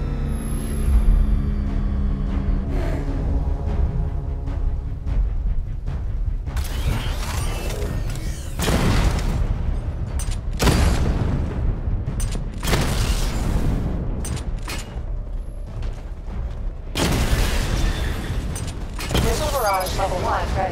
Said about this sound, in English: Charge up weapon energy and activate missile barrage.